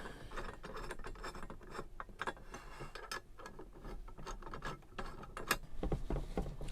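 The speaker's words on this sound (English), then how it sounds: "And now I can tighten these up." Bolts being tightened on a Starlink roof rack mounting bracket: a quick run of close, quiet ratcheting clicks with small metallic taps, no voices.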